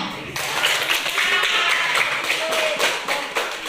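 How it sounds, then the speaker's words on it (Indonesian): A classroom full of people clapping steadily for several seconds, dense and lively applause at close range. "Tepuk tangan untuk semuanya."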